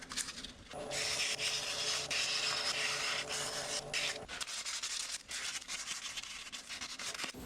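Steady dry rubbing of 220 grit sandpaper by hand against a turned wooden pen, a continuous scratchy hiss for a few seconds that then breaks into shorter, uneven strokes.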